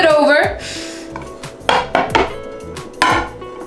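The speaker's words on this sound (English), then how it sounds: "Basically, you're gonna grab your pan, put it over the plate," A metal pan is handled and turned over onto a plate, giving a scrape followed by several sharp, close clanks of metal against crockery.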